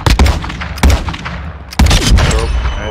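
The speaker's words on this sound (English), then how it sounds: "I'm still hiding from this mortar." Mortar fire in a video game: three or four heavy, sharp blasts in quick succession, loud and close, with rumbling noise between them and no talk.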